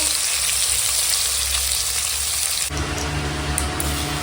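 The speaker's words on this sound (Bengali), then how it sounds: "এখন ফুলকপি ভেজে নিচ্ছে" Loud, continuous sizzling of cauliflower frying in hot oil, with a brief shift in the hiss partway through as the pan is stirred.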